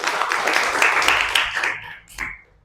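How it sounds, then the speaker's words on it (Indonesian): A room of schoolchildren claps together in a quick burst of many small hands, fading after about two seconds into a few stray claps and a brief voice. "tepuk tangan buat anak-anak Ibu dong"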